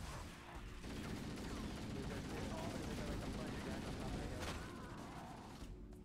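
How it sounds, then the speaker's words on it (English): A plasma pistol fires at an elite in Halo CE amid a dense, continuous wash of battle noise, with rapid overlapping shots holding steady at a low-to-moderate level throughout. "I'm gonna go hit him with the old plasma pistol"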